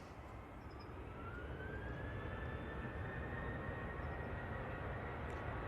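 Jet2 Boeing 737 engines spooling up for takeoff at Manchester Airport: a faint, steady broadband roar with a slowly rising whine, heard from a distance with no talking.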